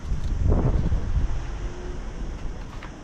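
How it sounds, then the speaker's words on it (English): Strong wind buffets the microphone outdoors in Malta, a continuous low rumbling roar with gusts, loudest early and easing slightly later. "It's a bit windy here"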